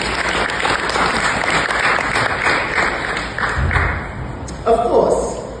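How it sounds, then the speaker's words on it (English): Attendees at a medical research conference in Trinidad and Tobago break into applause, a loud, sustained wash of clapping filling the room before tapering near the end. "So give yourselves a round of applause."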